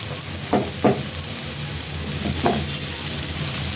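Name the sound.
onion frying with turmeric powder in pan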